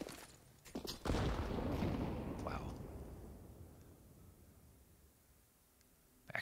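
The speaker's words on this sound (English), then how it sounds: "actually a really good grenade to kick off this round" A grenade detonates in a Counter-Strike match on the Dust2 map, a sudden loud broadband blast followed by a long rumbling decay that fades over several seconds, with commentary voices faintly underneath.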